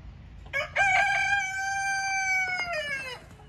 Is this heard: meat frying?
no